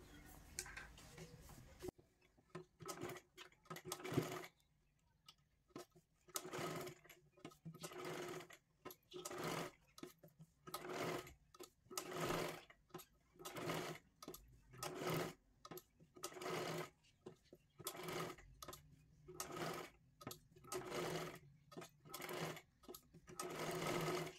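A sewing machine stitches a size 32 katori blouse in repeated short runs, its rapid mechanical chatter starting and stopping in bursts of a second or two, close and quiet.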